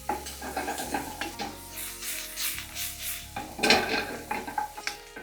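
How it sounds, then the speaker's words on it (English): Carrots and the white parts of green onion sizzle steadily in a hot pan for Japanese fried rice, with occasional utensil scrapes and stirring clatter over the continuous frying hiss. "add in the carrots and white parts of the green onion. Now cook it for a couple more minutes"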